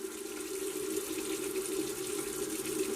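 Paint brush being rinsed under running tap water, a steady close rushing stream with a constant tone, uninterrupted and without talk.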